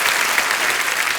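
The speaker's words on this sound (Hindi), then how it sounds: "जोरदार तालियां सुनिधि पाजी के लिए" Loud, dense applause from a studio audience at a comedy show, a steady wash of many hands clapping close and full for about a second.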